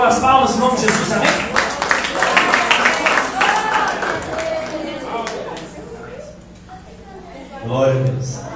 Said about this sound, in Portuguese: Vamos receber o irmão com as palmas em nome de Jesus